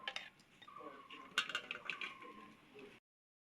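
A spoon scrapes and clinks against a pot while gulab jamun are stirred in syrup, a quiet run of small metallic knocks and scrapes that stops abruptly.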